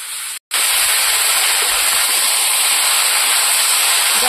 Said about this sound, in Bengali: সবজি ভালো করে কষিয়ে দেবো।